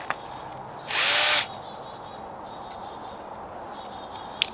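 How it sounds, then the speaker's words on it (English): A power drill briefly bores a pilot hole into wood for a weasel box, one short high-pitched whir of about half a second, with faint bird chirps in the quiet background. "We'll go ahead and give a little pre-drill, that way we're not going to be splitting any of our wood."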